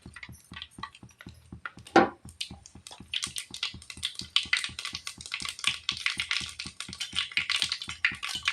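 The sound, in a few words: mustard seeds spluttering in hot oil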